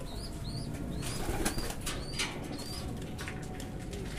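Racing pigeons arriving at the loft after a 290 km derby race from Sta Cruz, Ilocos Sur, with bursts of wing flapping over steady outdoor ambience and a few faint chirps.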